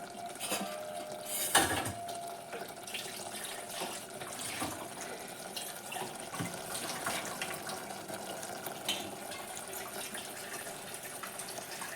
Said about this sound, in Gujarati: તો ફ્રેન્ડ્સ, હવે આપણે આની અંદર પાણી એડ કરી દઈશું.